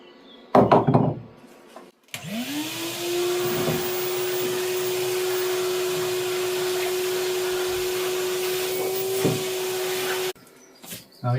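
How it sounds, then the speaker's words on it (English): A Henry vacuum cleaner runs steadily for about eight seconds during cottage renovation work: a loud, constant motor whine that starts abruptly and cuts off, with a few knocks before and after. "I used Henry because Sam is trying out the other handheld vacuum cleaner"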